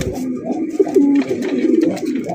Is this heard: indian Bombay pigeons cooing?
yes